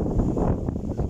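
Wind gusting outdoors in a village, buffeting the microphone with a loud, continuous broadband rush, with no other sound standing out.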